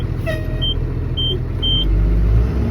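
A warning alarm beeps three times at an even pace inside a 1996 Ford F800 truck, short clear tones over a steady low engine rumble in the cab.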